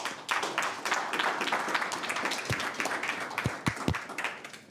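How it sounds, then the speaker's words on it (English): An audience at a youth entrepreneurship programme launch breaks into steady applause, dense clapping filling the room throughout with a few sharper nearby claps. "Can you please give him a round of applause?"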